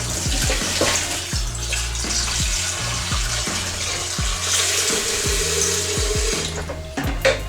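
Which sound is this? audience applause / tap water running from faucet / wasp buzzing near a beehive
tap water running from faucet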